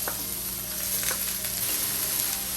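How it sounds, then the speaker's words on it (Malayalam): Chopped onions, green chillies and curry leaves sizzle in a hot pan for a beef dish, a close, steady crackling fry with faint stirring clicks. "നമ്മൾ കണ്ടിച്ച് വെച്ചേക്കുന്ന മൂന്ന് സവാളയും നമ്മുടെ പച്ചമുളകും കറിവേപ്പിലയും എല്ലാം കൂടെ അങ്ങോട്ട് ഇട്ട്"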